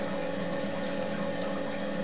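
Water runs steadily into a machine tool's coolant tank in a home garage, a continuous splashing hiss over a low motor hum, brief and without talking.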